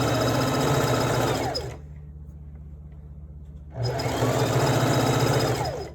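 A sewing machine stitches a one-piece garment in two loud, close, steady runs, stopping for about two seconds in the middle before the motor starts again.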